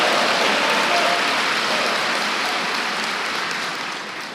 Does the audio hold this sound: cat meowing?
no